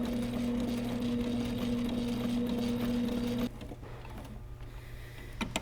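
A sewing machine runs steadily while hemming fabric for a car seat cover, sewn from the back side; a constant close whirring hum lasts about three and a half seconds, then cuts off to quieter background with a couple of small clicks.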